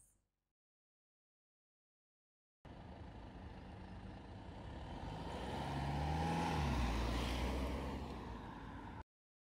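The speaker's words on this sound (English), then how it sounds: "Now to take the BMW 2 Series out for a short drive." A BMW 2 Series Gran Coupe 220d, sharing the 320d's diesel engine, on a short drive. After a silent start, steady engine and road noise sets in, swells to a fuller drone midway, then eases slightly.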